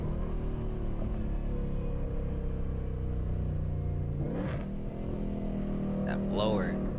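A supercharged 1400 hp Shelby GT500 Mustang accelerates through traffic, its engine droning steadily and then surging as it revs up. Short bursts of speech and road noise come in near the end.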